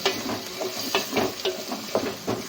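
Onions for biryani fry in a pan, a continuous sizzle under repeated stirring scrapes that come roughly twice a second, close and prominent, with no voices.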